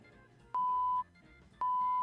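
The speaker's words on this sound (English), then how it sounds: "What was that sound effect? What was that sound effect? Sensor beep." Two identical electronic quiz beeps, each a clean sustained tone about half a second long, sounding one after the other with a short gap over a quiet background.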